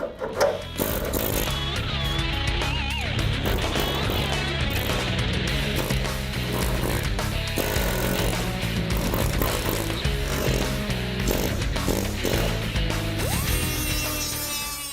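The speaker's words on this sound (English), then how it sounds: "Anything that's left over, well, the air hammer can make pretty quick work of it" An air hammer cutting away leftover metal from the body of a 1970 Dodge Challenger, a loud, rapid pneumatic chatter running almost nonstop, with scraping metallic squeals and brief pauses between bursts.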